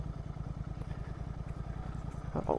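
A GT 650 motorcycle rides at night with an even, low, rhythmic engine thump that holds steady and fairly quiet. Faint road and wind noise sits under it, with a slight clatter near the end.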